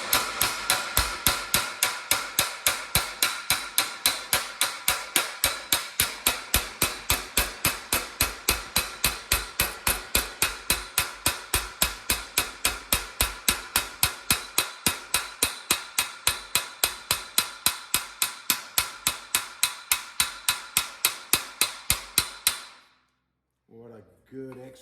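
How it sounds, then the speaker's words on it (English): Steady rapid hammer blows planish a weld over a high crown dolly, dozens of sharp metallic strikes in even rhythm, close and clear, ending with a short pause and a couple of faint knocks. "What a good exercise for planishing out a weld, but also control on hand weight and hammer."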